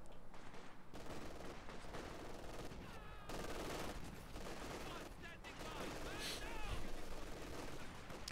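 Anti-tank gun fire in the World War II strategy game Company of Heroes 2: repeated sharp gun reports amid a busy battle mix of shots and rumbles, moderately loud and continuous.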